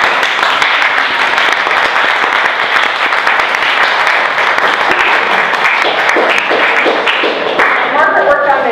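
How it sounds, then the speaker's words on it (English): Crowd at a museum art exhibition event claps vigorously and continuously, a close, dense wash of applause with murmuring voices mixed in throughout. "I think that applause was well deserved"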